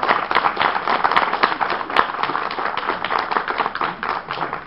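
An audience at an Expo Ofrendas event claps in a steady, fairly close round of applause with a few sharper individual claps standing out, no speech over it.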